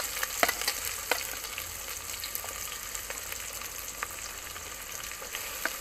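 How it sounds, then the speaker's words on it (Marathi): Chopped onion with green chilli frying in hot oil in a home kitchen pan, a continuous sizzling crackle with scattered sharp pops and spoon scrapes, close and steady throughout. "कांदा टाकून घेऊयात."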